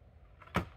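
A wheel on a Veer Cruiser stroller wagon snaps into place after its release button is pressed, giving one sharp, brief click against a quiet background.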